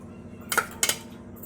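A metal spoon clinks twice against a dish while stirring chili powder, turmeric and salt into boiled amla pieces, two short bright taps close by.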